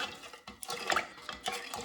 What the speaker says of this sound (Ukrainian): В тепленькій водичці розчиняємо одну столову ложку солі і дві столові ложки цукру.